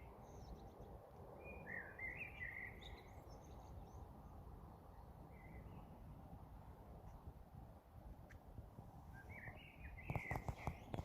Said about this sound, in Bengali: আর পাখি ডাকছে।